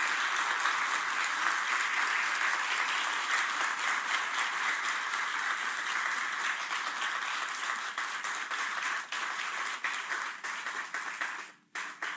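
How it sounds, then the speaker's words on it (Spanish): An audience at an honorary doctorate ceremony for Argentine President Javier Milei claps loudly and steadily for about eleven seconds with no talking, then the applause tapers off near the end. "Damas y caballeros, el aplauso fuerte para ellos."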